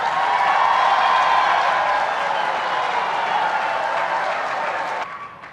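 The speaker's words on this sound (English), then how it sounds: "we need another applause" Audience applause at a SADC heads-of-state summit, a dense sustained wash of clapping from a large hall that holds steady and then fades out near the end.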